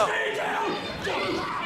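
Angry wrestling crowd at an Alpha One match shouting and jeering at Bear Bronson, a dense, sustained roar of many voices filling the arena without pause.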